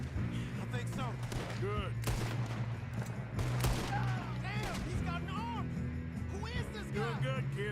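Rapid gunfire crackles through a shootout in Red Dead Redemption II, repeated sharp shots and bursts layered under shouting voices and a steady low musical drone.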